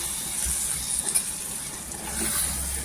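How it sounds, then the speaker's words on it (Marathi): Soft, steady sizzling of ground masala paste frying in oil, a faint continuous crackle and hiss with small bursts, heard close with no talking. "इथे आहे ना तेलावर परतून घ्यायचं."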